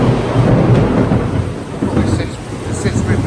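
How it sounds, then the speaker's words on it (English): Heavy rain pours down in a thunderstorm over lime trees, with deep thunder rumbling throughout, a continuous dense wash of sound close by. "This is the first time we've had rain here"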